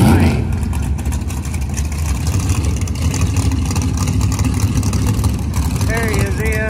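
Small-tire drag racing cars accelerating down the strip, a loud sustained engine roar with dense rumble throughout and a rising whine near the end, while an announcer talks over it.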